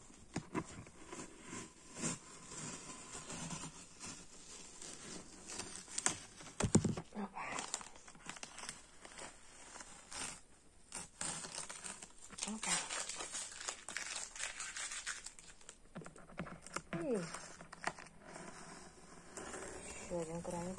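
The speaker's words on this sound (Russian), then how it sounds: "Снимаем наш скотч." Adhesive tape is peeled off paper after a children's tulip craft, a long run of crinkling and tearing rasps with some louder bursts, alongside quiet handling noise.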